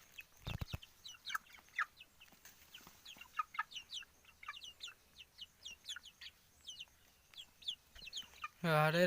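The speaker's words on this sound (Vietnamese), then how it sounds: "Đây là gà chọi" Young fighting cock chicks, about a month old, cluck and peep in rapid, scattered bursts close by, with a brief thump early on and a louder squawk at the end.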